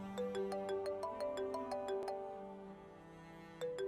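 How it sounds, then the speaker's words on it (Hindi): A mobile phone ringtone plays a bright, repeating melodic chime in a domestic drama scene, steady and fairly loud for several seconds, pausing briefly before resuming near the end. "तुम्हारे बाप का फोन होगा।"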